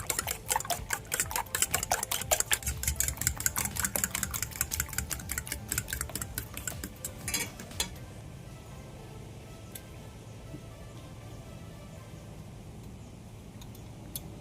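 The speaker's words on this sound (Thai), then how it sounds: "อ่ะเสร็จแล้วเราก็ตีไข่นะคะ ทุกคนตีให้มัน ขึ้นฟูนิดนึงนะคะ" Eggs beaten fast in a bowl for an omelette, a rapid, even clatter of utensil against the bowl for about eight seconds, then quiet with only faint scattered taps.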